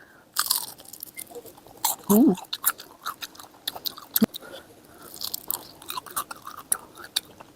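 Crunchy chewing of spicy pork kimbap end pieces, close and crisp with irregular bites and crackles, mixed with a little quiet talk.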